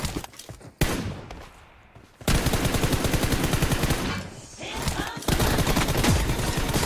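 Rapid automatic gunfire rattles in the video game PUBG, loud close bursts with a short pause between volleys, then sustained fire.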